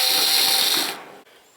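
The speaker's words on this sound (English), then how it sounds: "take these screws out" A power driver whirs briefly as screws are backed out of an AC unit, a high buzzing burst lasting under a second before cutting off, followed by a faint click.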